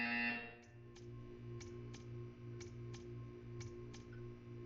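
A faint electronic buzzer drones in a Portal 2 test chamber, pulsing in short repeated bursts under a low hum, with light ticks at regular intervals after a brief louder tone at the start.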